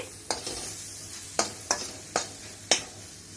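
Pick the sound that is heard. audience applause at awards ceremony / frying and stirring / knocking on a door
frying and stirring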